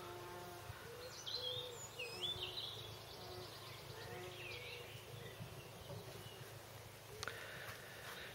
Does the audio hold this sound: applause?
no